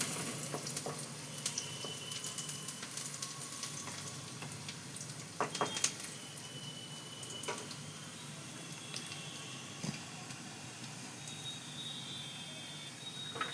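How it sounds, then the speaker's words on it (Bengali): Onion fries in a pan for a raw boal fish curry, a soft continuous sizzle with occasional clicks and stirring scrapes, close but fairly quiet. "এই যে পেঁয়াজটা একটু ভাজা হয়েছে"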